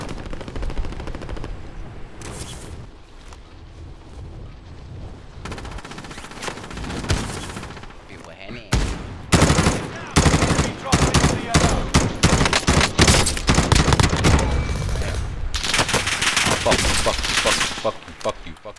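Gunfire in the video game Warfare: scattered shots at first, then dense bursts of rapid automatic fire, loud and close, with voices talking over the shooting.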